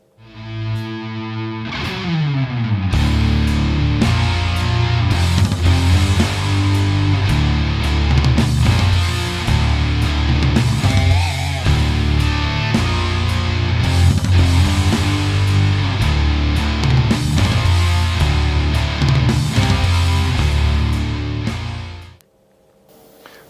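A song played on heavily distorted electric guitar, loud chugging power-chord riffing with steady rhythm and sustained low chords, running continuously alone before cutting off near the end.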